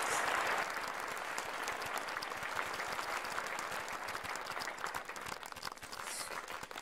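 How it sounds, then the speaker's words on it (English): Steady applause from a conference audience after a rendering paper presentation at a graphics symposium, dense and continuous clapping that fills the whole stretch with only a slight thinning toward the end. "let's give a good round of applause to Sebastian,"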